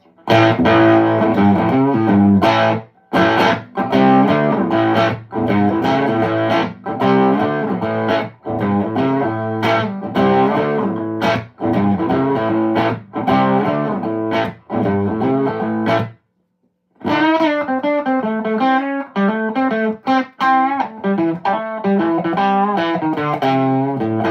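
Loud overdriven electric guitar played through a small low-wattage amp, not even halfway up, gritty distorted chords and riffs with brief pauses, then a cleaner-edged passage after a short silence.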